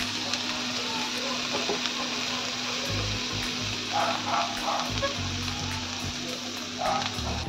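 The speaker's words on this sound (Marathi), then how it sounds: "बघा अशा प्रकारे परतून घ्यायचे आहे आपल्याला." Vegetables stir-frying in a hot kadhai give off a steady, close sizzle. Low stirring scrapes and knocks come through, and a few short bubbling pops break in near the end.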